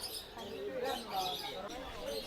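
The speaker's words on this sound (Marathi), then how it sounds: "पहिलं हे भेटलं आम्हाला ते म्हणजे पोपट आहे" Faint chirping parrot calls mixed into a noisy outdoor scene at Mysore zoo with voices in the background.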